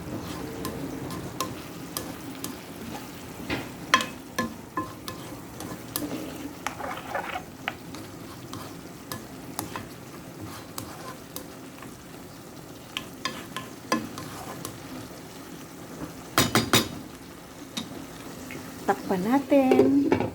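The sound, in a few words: stir-frying long beans and carrots with minced pork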